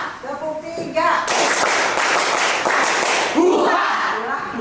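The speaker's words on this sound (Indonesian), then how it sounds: "Tepuk 3." An Indonesian classroom of pupils joins in a rhythmic clapping routine of three claps, a loud burst of mixed hand claps and voices following a teacher's call, with children's chatter around it.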